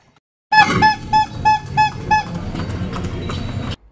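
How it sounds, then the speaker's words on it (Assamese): About six evenly spaced hoof clops from a horse pulling a cart on Gili Trawangan, Lombok, Indonesia, close and distinct, then a steady rolling rumble. "আমি থাকিবলগীয়া ঠাইটোলৈ এই ঘোঁৰা গাড়ীতে উঠি ল'লোঁ"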